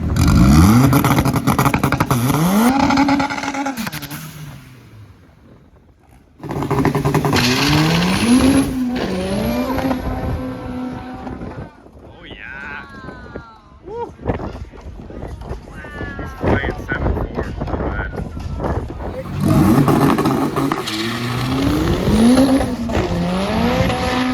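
Honda race cars at a Honda Fest 1/8-mile drag strip: loud engines roar and rev in long sweeping bursts, with tire squeal and passing vehicle noise, a quieter gap mid-way, and voices talking over parts of it.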